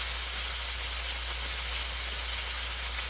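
Salmon fillet searing skin-side down in a hot pan, giving a steady, even hiss that holds without a break for the whole stretch, with no talking over it.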